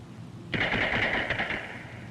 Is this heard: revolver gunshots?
yes